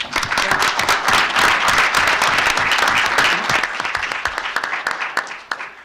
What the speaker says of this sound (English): I'm not sure that's worthy of applause